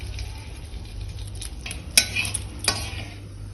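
Whole cardamom and dried chillies sizzle steadily in butter and oil in a pan, with a constant hiss broken by a couple of sharp utensil clinks against the cookware.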